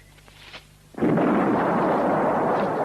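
A sudden deep boom of cannon fire erupts after a quiet moment, followed by a sustained rumbling roar that carries on loudly.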